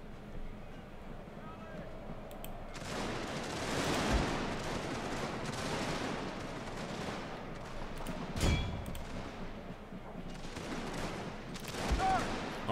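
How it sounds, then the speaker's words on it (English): Infantry rifle volleys crackle in scattered bursts, some near and some distant, across a battlefield near a tree line in Total War Victoria during a Boxer Rebellion battle, with a voice talking over the fire. "Alright, looks like these guys are already firing."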